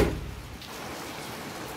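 Steady rain falls outside onto a computer desk left out in the weather, a constant broadband hiss with a brief louder thump at the start, heard alone without talk.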